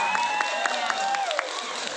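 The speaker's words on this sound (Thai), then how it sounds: "ขอเสียงปรบมือให้คุณพ่อหน่อยครับ" A crowd claps and cheers for a father at a village gathering with a headman from Finland. The applause is a dense, steady patter lasting throughout, mixed with voices and a faint tonal background.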